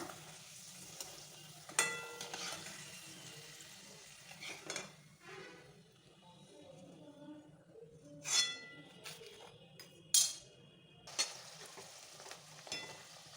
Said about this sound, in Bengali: আমি এবার এরম করে সব ভেজে নেব